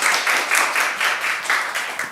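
A church congregation applauds during a Sunday service, a fairly loud, fast, even clapping with a steady rhythmic pulse running throughout.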